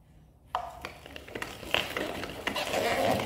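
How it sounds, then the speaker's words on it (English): Onions being ground in a manual hand blender: a steady churning, crunching scrape with repeated clicks and knocks that builds in loudness, close by and without talk. "I'm going to use the manual blender to grind"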